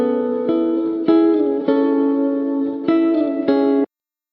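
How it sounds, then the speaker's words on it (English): Two lo-fi electric guitars panned hard left and right, one an octave down and one an octave up, trade a slow melody of sustained plucked notes with clear pick attacks every half second or so, warm and lightly reverberant, with no voices. "The next part that he added were these guitars that were panned to the left and the right,"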